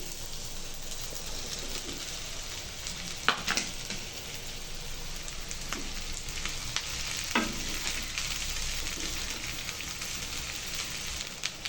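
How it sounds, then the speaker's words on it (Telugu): Sliced okra frying in a pan gives a steady, close sizzle, with scraping stirs at intervals throughout. "ఇప్పుడు ఇవి కొద్దిగా ఫ్రై అయ్యాక ఇందులోకి మనం కట్ చేసి పెట్టుకున్న బెండకాయను వేయాలండి"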